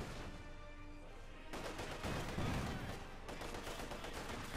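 Machine gun fire from a Company of Heroes 2 match rattles steadily and fairly faintly, joined by heavier blasts from a 45mm gun amid ongoing battle noise.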